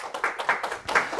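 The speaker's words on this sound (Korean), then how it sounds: "우리 박수를 한번 다 같이 주도하겠습니다" An audience at a lecture on financial policy claims claps together in a quick burst of many overlapping hand claps, close and fairly loud, with no speech over the brief moment.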